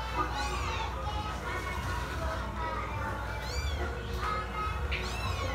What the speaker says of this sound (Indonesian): Bang Batak nggak jualan malah ngurusin kucing